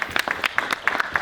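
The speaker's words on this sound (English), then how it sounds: "Give yourselves a round of applause for that" Audience applause at the close of a panel talk about haunted isles, a short burst of separate sharp claps from a small crowd, fairly close and uneven in rhythm, with no talking over it.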